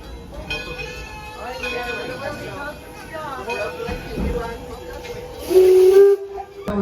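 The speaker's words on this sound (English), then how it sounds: "you hear a blast of the whistle from the engineer" A short, loud steam whistle blast from a railroad locomotive near the end, sounding over train rumble and hissing, with voices in the background.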